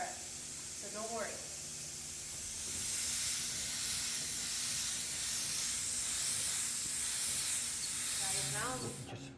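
A spray gun applies a pearl white coat to a Tesla Model 3 bumper during a mobile repair in Phoenix, giving a steady, close hiss that holds for several seconds between brief bursts of speech at the start and end.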